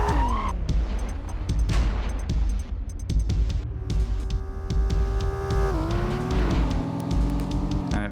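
A car slides and skids in the PS1 racing game Test Drive 4, its engine droning loudly throughout with shifting pitch and tire squeal as it loses grip through a corner.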